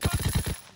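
A rapid burst of about five or six gunshots fires in quick succession in Call of Duty: WWII, loud and close, then cuts off abruptly.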